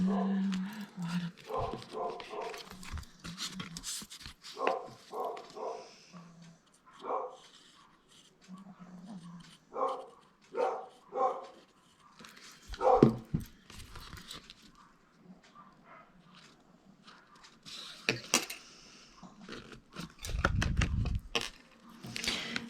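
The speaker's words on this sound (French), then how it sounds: "il y a tous les chiens du quartier qu'aboient" Several neighbourhood dogs bark in scattered bursts at middle distance, with yips and whimpers mixed in and occasional low rumbles in between, and no talking over them.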